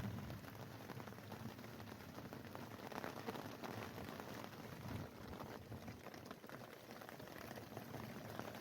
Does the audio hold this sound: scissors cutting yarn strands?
no